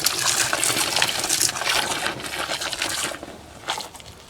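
Garden hose spraying water to rinse out a washing machine, a loud continuous hiss of spray splashing against the drum, easing off near the end with a few sloshes.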